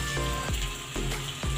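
Egg, potato and pointed gourd fry in a pan, giving a steady close sizzle with brief stirring scrapes and no voices.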